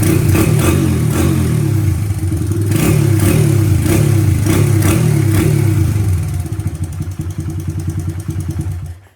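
A small engine fitted with a modified, cut-up spark plug runs loud and close, chugging and revving with a clattering rhythm before settling toward a rougher idle near the end.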